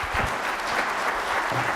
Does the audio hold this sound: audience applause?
yes